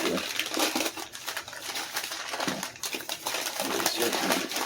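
Packing paper is pulled and crumpled out of a shipped box, a steady close rustling and crinkling that runs throughout with small bursts of tearing.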